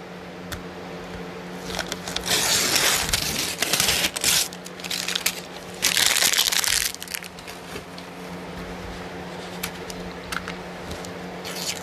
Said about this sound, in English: I tore the paper and now I'm just gonna tear that all off